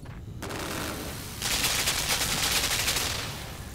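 Gunfire in the side-scrolling game Limbo: a rapid burst of repeated shots, fairly faint and steady over a low background rumble, with no voices.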